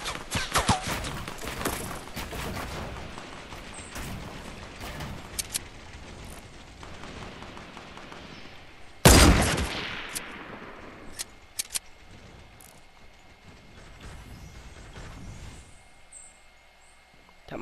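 Gunfire in a Fortnite Battle Royale match, with scattered shots and a loud burst of shooting in the middle, along with other game sounds and a voice talking in the background.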